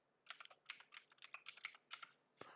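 Rapid, uneven bursts of typing on a computer keyboard, with crisp key clicks clustered in quick runs and short pauses between them, close and fairly loud, with no talking.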